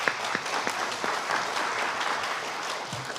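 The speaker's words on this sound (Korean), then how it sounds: "박수 한번 주시죠." An audience at a Korean civic awards event applauds steadily for a few seconds, a moderately loud, even wash of clapping with a faint voice underneath.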